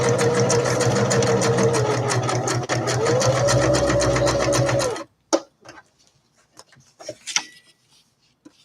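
A sewing machine stitches fabric for a craft project, running loud and steady for about five seconds before stopping, followed by a few faint handling clicks and rustles.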